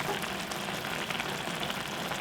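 Korean saury and kimchi jjim bubbling and sizzling in a pot, a steady dense crackle and simmer heard close up with no voices.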